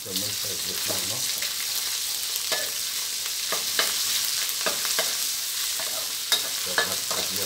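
Garlic and red curry paste stir-fried in a pan for a Thai sweet-leaf curry with red ant eggs, a steady close sizzle broken by repeated scraping strokes of a spatula, with no talking.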